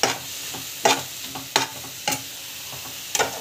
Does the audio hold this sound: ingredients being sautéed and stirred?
yes